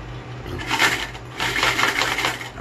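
Coins, mostly 25-cent pieces, clink and rattle continuously as they spill from a grandfather's piggy bank, a loud close metallic jangle with no talking over it.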